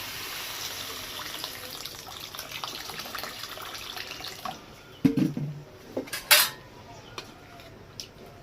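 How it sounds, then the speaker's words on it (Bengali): Lentils for a festive khichuri are rinsed with water in a pot, a faint running trickle giving way to a few sharp clinks and a ladle clatter against the metal, close and intermittent. "এবার আমি ডালটাকে একটু ধুয়ে নেব"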